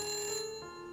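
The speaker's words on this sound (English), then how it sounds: "The phone is ringing." A telephone ringing in a haunted-mansion mystery video game, a steady electronic ring tone heard faintly and alone in a brief moment.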